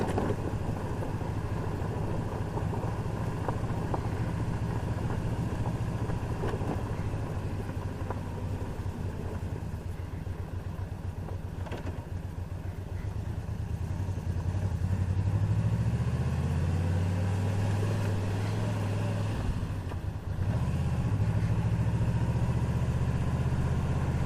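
A heavy 870 lb touring motorcycle rumbles steadily along a loose gravel logging road, its low engine drone constant and close, rising slightly in pitch near the end under continuous crunch and wind noise.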